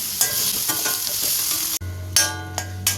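Beef sautéing in a little oil in a pan for beef chukka, a loud, steady sizzle with a sudden cut, then deeper frying hiss, low hum and a few stirring scrapes.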